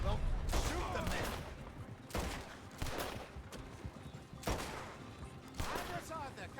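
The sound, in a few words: gunfire in video game Red Dead Redemption 2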